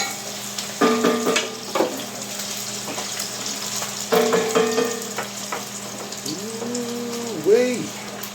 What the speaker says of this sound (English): now Happy is going to add our mushrooms to the pot here so they can cook down